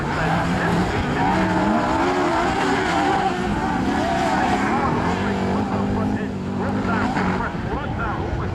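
Autograss race cars at Castle Combe, several engines whining and revving at shifting pitches with some fitted with motorbike engines, a dense mid-distance racing roar under steady commentary.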